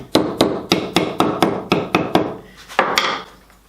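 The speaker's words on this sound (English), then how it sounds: "We're just gluing the splines in now." Wooden splines are tapped into a glued teak and Tasmanian ash drawer box in a close, crisp run of about ten evenly spaced knocks, then a short pause and a couple more taps.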